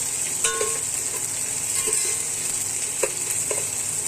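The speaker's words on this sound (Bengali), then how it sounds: "পেঁয়াজটা হালকা ভাজা ভাজা করে দেব" Steady soft sizzling of onions frying in a pan, with a few light clinks and stirring scrapes.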